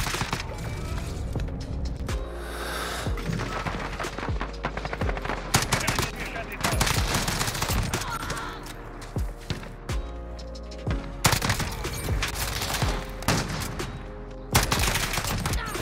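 Uzi fire in Modern Warfare crackles in rapid automatic bursts and scattered shots, loud and close, broken by short pauses, with footsteps and game noise mixed in.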